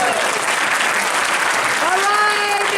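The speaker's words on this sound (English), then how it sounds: "give them a round of applause like we're in Peekskill" Audience applause at a New York State Senator's oath of office ceremony in a Peekskill High School hall, dense, loud clapping throughout, with cheers and a whistle-like tone rising near the end.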